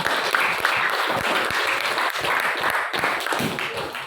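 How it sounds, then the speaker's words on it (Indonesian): A classroom group claps for the Seroja group in a steady wash of applause that holds for several seconds and fades slightly at the close. "Berikan aplaus untuk kelompok seroja."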